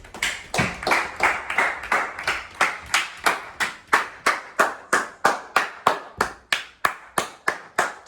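A small group gives rhythmic, steady applause for the winner of a McDonald's double cheeseburger eating challenge, close-up claps in an even beat for about eight seconds.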